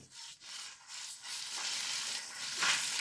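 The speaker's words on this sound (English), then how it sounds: "Add all the Napa cabbage, mix well." Napa cabbage is tossed with already seared meat in a hot pan for a quick Japanese stir-fry, giving a close, continuous sizzle with rustling, scraping stirs that swell louder toward the end.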